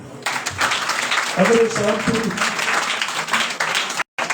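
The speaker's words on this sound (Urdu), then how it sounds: "میں کہتا ہوں کہ اس کے لیے زوردار تالی." A church congregation claps loudly during a sermon, dense continuous applause with a few voices calling out underneath, breaking off briefly near the end.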